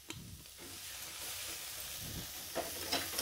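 Finely chopped tomato sizzling in a pan with potatoes and spices, a steady frying hiss with soft stirring scrapes and a few louder clicks, close and continuous without speech.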